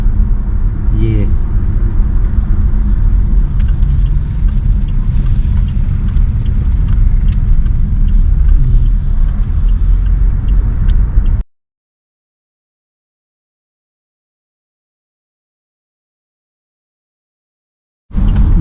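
A car drives along the Leh-Manali highway beside the Chandra River near Tandi, with a steady close engine and road rumble under someone talking, cutting abruptly to silence before returning at the very end.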